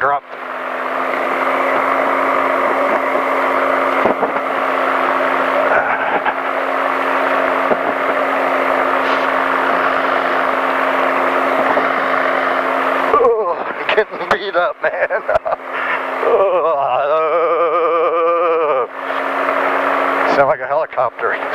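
Powered parachute engine running steadily in flight, a loud continuous droning motor that stays close throughout, with the tone wavering and shifting in the later part as the craft turns through bumpy air; someone talks over it.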